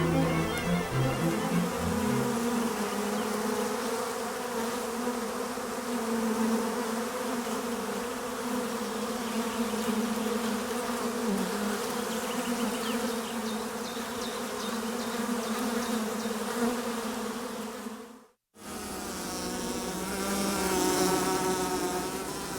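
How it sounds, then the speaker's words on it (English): A cluster of swarming honey bees hums nearby, a dense, steady buzz that holds for the whole stretch, with a brief cut near the end before the buzz resumes. "the swarm forms a temporary cluster for warmth and protection"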